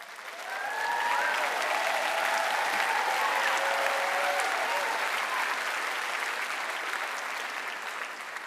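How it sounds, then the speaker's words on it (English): Applause from the audience at a graduation ceremony for Chelsea College of Arts, a dense, sustained ovation filling a large hall, swelling quickly and then slowly tapering off. "depending on that round of applause"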